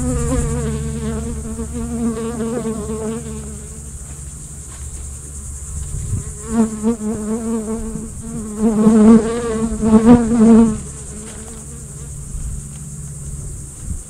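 A steady drone of many honey bees buzzing close by in a hive, swelling louder in a few bursts as individual bees fly near, with no speech.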